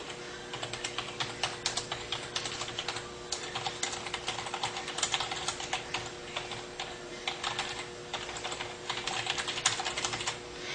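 Steady, rapid clicking of someone typing on a computer keyboard while entering text in design software, with irregular bursts of keystrokes running continuously, close and moderately loud with no talk.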